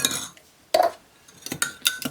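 A spoon scrapes and clinks against a bowl while stirring a crushed tinned tomato marinade, with a few distinct knocks separated by brief quiet pauses, close and fairly loud.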